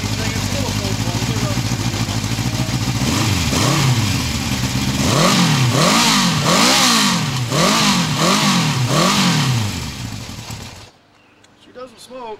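A 1972 Honda CB750 K2 motorcycle engine runs on a test run, a loud close idle rising into several repeated revs that swell and fall in turn, then cutting off abruptly near the end.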